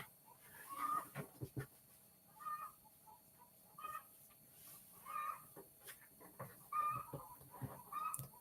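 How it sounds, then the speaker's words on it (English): Backyard chickens clucking an egg song, with repeated rhythmic squawking calls in bursts every second or so, fairly near over a quiet background, with no speech. "the chickens are singing an egg song right now"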